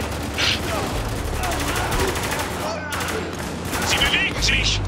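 Gunfire in the video game Spec Ops: The Line, with dense, continuous automatic bursts and booms through the stretch while someone talks over the shooting.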